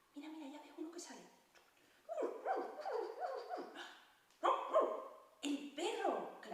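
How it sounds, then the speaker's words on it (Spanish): A farm dog barks in a series of yappy, uneven barks, fairly close and moderately loud, with short pauses between bursts and a voice heard in between. "¡El perro!"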